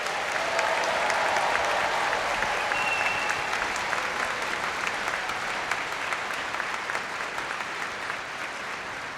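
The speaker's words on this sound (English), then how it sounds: "a big round of applause for our advanced and intermediate musicians here today" An audience at a youth symphony concert applauds the advanced and intermediate young musicians, sustained loud clapping that fills the hall steadily and fades slightly toward the end, with a few faint voices mixed in.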